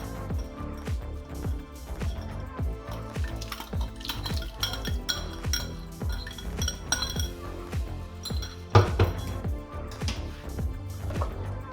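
A spoon stirs cabbage sour soup in a pot, scraping and clinking steadily against the metal in repeated close strokes, with a louder knock near the end.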